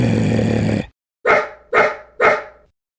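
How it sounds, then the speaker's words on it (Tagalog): A loud burst of noise cuts off, then after a short pause three sharp dog barks ring out close by, evenly spaced. "Tahol ka ng tahol ha."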